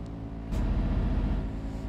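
Electric truck in Euro Truck Simulator 2 pulling away, a low steady rumble swelling in after a brief soft hiss, with no talking.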